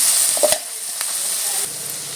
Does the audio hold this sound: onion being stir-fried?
yes